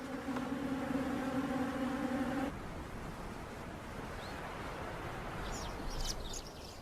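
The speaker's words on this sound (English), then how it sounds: "sometimes they attract thirsty bees drawn to this unlikely source of moisture" Bees buzzing in the open around a honey badger, a steady droning hum that is loud for the first couple of seconds and then drops back into a hissy outdoor wash, with faint bird chirps near the end.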